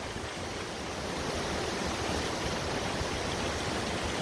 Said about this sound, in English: What an absolute beautiful waterfall.